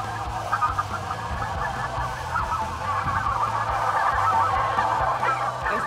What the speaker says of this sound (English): it's got snow geese in them too